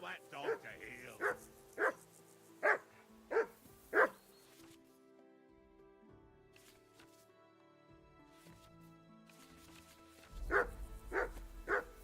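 Barking from a dog in Kingdom Come: Deliverance II: six sharp barks in a quick run, a stretch of quieter tonal ambience with faint voices, then three more barks near the end.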